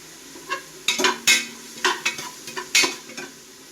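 Vegetables with beetroot frying in a pan while a utensil stirs them, giving a run of close scraping, clattering strokes in an uneven rhythm over a soft sizzle, with no voices.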